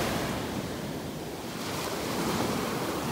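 Ocean waves and surf breaking on a rough day at a North Naples, Florida beach, a steady, loud wash of broadband surf noise with some wind buffeting the microphone throughout.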